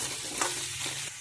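Sweet potato, eggplant and other vegetables sizzle in hot oil while being stirred, a continuous frying hiss with one quick scrape of a spatula against the pan.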